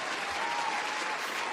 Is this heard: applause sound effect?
yes